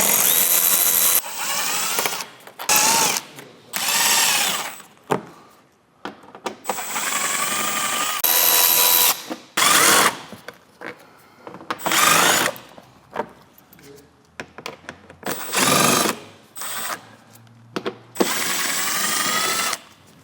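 A cordless power drill runs in repeated short bursts while driving out small 7mm and T15 screws along the underside of a 2014-2019 C7 Corvette, each whirring spin separated by brief pauses, close and fairly loud.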